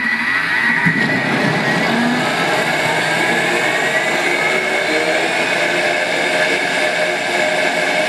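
A Thermomix spins cheesecake batter at speed 7, giving a loud, steady mechanical whir that holds evenly for several seconds without a break.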